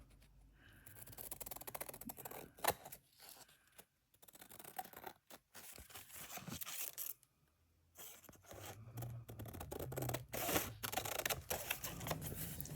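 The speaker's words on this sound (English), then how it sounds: "I'm going to use these scissors because I like them better" Scissors snip through paper while a junk journal page is being made indoors, giving a run of close, crisp cuts and scrapes with brief pauses between bursts.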